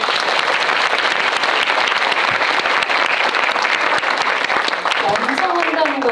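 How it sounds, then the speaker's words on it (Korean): An indoor audience at a Korean indie film screening and director talk applauds loudly, a dense, even wash of clapping that stays alive throughout, with a voice briefly heard near the end. "박수 한번."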